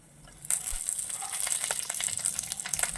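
Cumin, mustard seeds, chana dal and green chillies hit hot oil, starting with a sudden burst of sizzling and then a crackling, popping fry that continues close by without talk.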